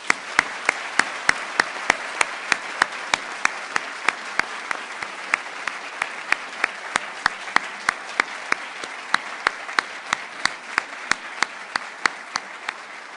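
An audience applauds to welcome guests at a swearing-in ceremony for a U.S. ambassador to Vietnam, sustained even clapping for over ten seconds with sharp individual claps standing out, no voices.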